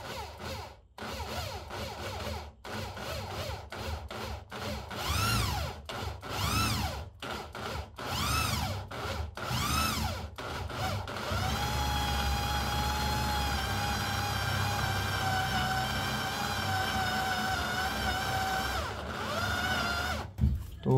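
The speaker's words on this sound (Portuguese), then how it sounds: "Vou furar mais devagar, né, para ela não esquentar muito." An 8 mm drill bit boring slowly and unlubricated into metal for a homemade drill-bit sharpener, with a power drill whining in repeated rising and falling pulses, then a long steady high-pitched grind, close and loud, with no talking.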